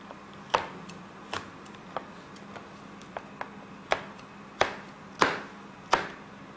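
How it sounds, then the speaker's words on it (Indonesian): A knife chops red chilies on a board in a home kitchen, giving about a dozen crisp, uneven knocks that grow firmer toward the end, close and otherwise quiet. "Ini sambil kita potong-potong cabai merahnya."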